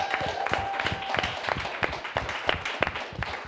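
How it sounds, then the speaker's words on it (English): Audience clapping at a comedy panel show, a dense run of sharp, irregular claps carrying steadily through the stretch at moderate loudness, with faint voices mixed in beneath. "Keep clapping, y'all."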